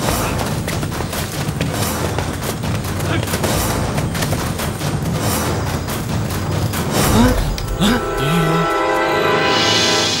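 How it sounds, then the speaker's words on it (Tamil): Gunfire and explosions ring out in a Tamil film action scene, dense bursts of shots and booms layered over dramatic score, with brief voices near the end. "வெடி சத்தம் கேட்டோம்"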